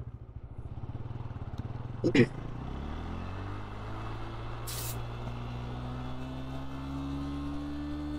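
Bajaj Pulsar N160 motorcycle engine revving in first gear, a close, steady throbbing idle that climbs smoothly in pitch as the revs rise and then holds, with a brief sharp burst of noise early on.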